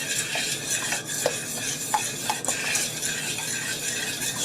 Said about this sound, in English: you are going to stir this up real good